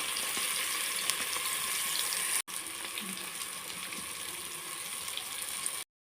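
Tempering sizzling in hot oil for mutton sambar, a continuous close hiss of frying with a brief cut partway through, running steadily until it stops abruptly near the end.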